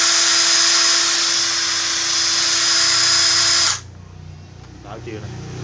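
Old used cordless drill running at a steady high-pitched whir for several seconds, loud and close, then cutting off abruptly into quieter room noise with faint talk.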